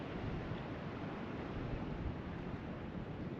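Ocean waves at a beach swimming area, a broad steady wash of surf with wind rumbling over the microphone, constant and fairly loud with no distinct breaks and no talking.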